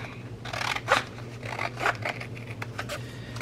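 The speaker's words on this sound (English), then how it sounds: "Let's cut this one out right here." Scissors snip through washi sticker paper in a steady run of close, crisp cuts, several quick shearing strokes repeating at an even pace with no talking.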